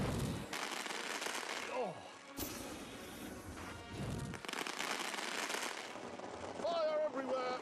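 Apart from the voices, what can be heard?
fireworks exploding in Grand Tour video game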